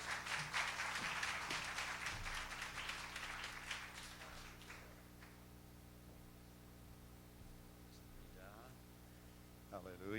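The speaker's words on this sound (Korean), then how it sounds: "박수로 맞이해 주시기 바랍니다" A church congregation at a Sunday worship service applauds to welcome the pastor, dense clapping that fades out after about five seconds, then a quiet room with hum.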